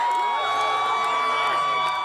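A dense crowd outside a Trump rally cheers and shouts as hundreds rush toward his motorcade, a loud, continuous wash of voices and whoops.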